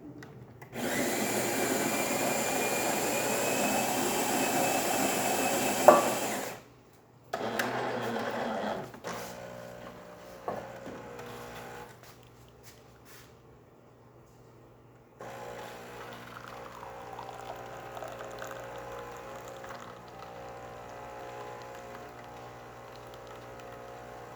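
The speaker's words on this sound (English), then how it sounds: "Let's go ahead, test it and make an espresso shot on it." A Jura F7 espresso machine, freshly serviced and descaled, pulls an espresso shot: a loud grinding and pumping whir for about six seconds, a brief pause, then quieter intermittent pumping and clicks followed by a soft steady hum.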